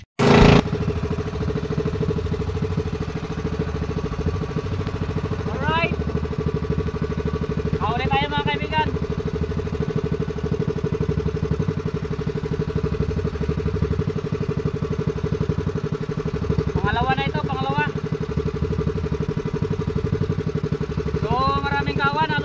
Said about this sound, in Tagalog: paandar muna ako ng makina